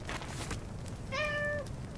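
A single clear cat meow in Little Inferno, brief and tonal, rises over a steady crackling fire background.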